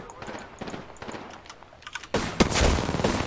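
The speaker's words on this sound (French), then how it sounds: "Oh, il me tire, là." Gunfire from an online multiplayer shooter: scattered sharp shots early on build into a louder, denser volley near the end, with clicking like a keyboard underneath and players talking over the action.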